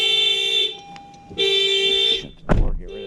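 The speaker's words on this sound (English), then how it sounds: "It's going to kick the alarm back on." A 2020 Honda CR-V car alarm sounds close by in steady repeating honks, with a short gap between blasts and a clunk near the end.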